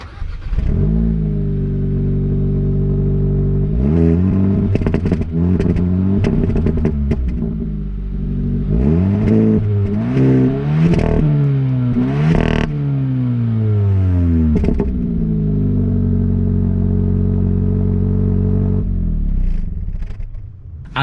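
A 2021 Hyundai Elantra N Line with dual tip exhausts revs repeatedly, the engine note climbing and falling in a series of close, loud blips, with a fluttering crackle from the exhaust between the pulls.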